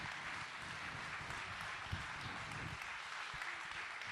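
An audience at a New Year's greetings event in Boissise-le-Roi keeps up sustained, dense applause, steady and moderately close, with a few sharper claps and faint voices underneath.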